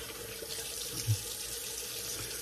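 Shaving cream being rinsed off under a running tap, a steady, quiet rush of water filling a sink, with a single soft splash partway through and no talk.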